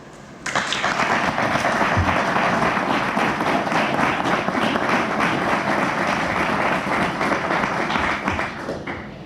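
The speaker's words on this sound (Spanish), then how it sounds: "un fuerte aplauso" Strong applause breaks out at a book presentation, dense sustained clapping from a crowd that starts abruptly, stays loud for about eight seconds and then fades.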